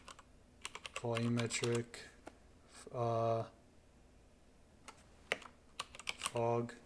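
Scattered computer keyboard keystrokes, quick clicks in short clusters, sound close between stretches of someone talking about Unreal Engine sky and fog settings.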